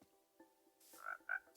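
A Minecraft frog croaks quietly, a faint low call followed by two short, brighter croaks close together, with near silence in between.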